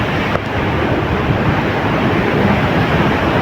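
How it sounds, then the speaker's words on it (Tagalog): Heavy, steady roar of big ocean waves in bad weather mixed with wind rumble, loud and close, with no distinct breaks between waves. "Alright guys, super big waves. Big waves, big waves."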